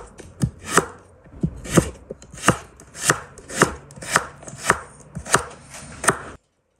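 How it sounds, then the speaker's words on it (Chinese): A knife chops carrot into thin slices on a cutting board, about ten sharp, evenly spaced knocks that are close and clear, with no talking. "胡萝卜切成菱形小块，然后切成片就可以啦"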